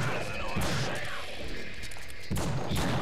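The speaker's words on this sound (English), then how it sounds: "And then you shoot them in the face and they just freak out." Gunfire in the horror action game The Suffering: a few heavy, booming shots stand out over a dense, continuous bed of game ambience.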